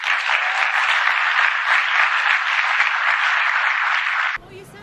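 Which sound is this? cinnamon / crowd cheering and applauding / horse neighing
crowd cheering and applauding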